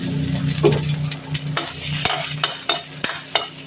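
Garlic sizzles in hot oil for menudo, a steady close crackle broken by sharp clacks of a spatula stirring against the pan.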